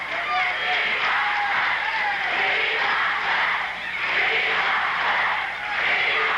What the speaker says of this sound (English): The crowd very vocal in their backing